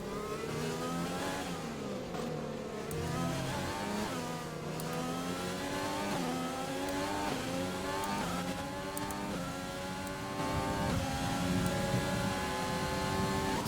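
An F1 race car in F1 2020 drives its final lap, the engine whining steadily and close, rising and falling through upshifts and downshifts without pause.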